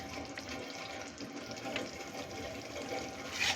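Hot water pours into a cooking pan of okra with mustard and poppy seed paste, making a steady, soft splashing stream that runs for a few seconds.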